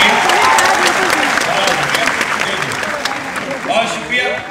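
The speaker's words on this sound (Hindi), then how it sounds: "एक बार जोरदार ताली हमारे एडमिनिस्ट्रेशन के लिए बजाइए" Loud, sustained audience applause at a Hindi poetry recital, a dense close roar of clapping hands filling the whole stretch and easing slightly toward the end.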